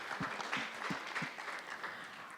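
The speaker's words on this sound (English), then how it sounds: "Please give a huge round of applause for Nadin" At a women-in-construction conference, a room of attendees claps briefly; the applause is fairly faint and sounds from a distance.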